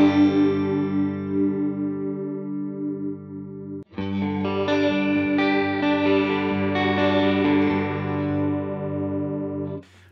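Electric guitar runs through a chorus effect on a Line 6 Helix processor, with a shimmering, warbling wash over sustained chords; a brief break near the middle, then a fuller strummed passage, loud and alone.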